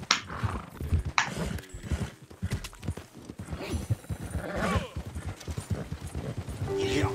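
Hoofbeats of a horse galloping in Red Dead Redemption 2, a steady clip-clop rhythm running throughout with game music and effects around it, and a voice talking over it.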